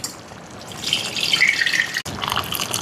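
Tamarind water is poured into a pot of gongura dal, a short splashing gush that swells and then tapers off with a small break.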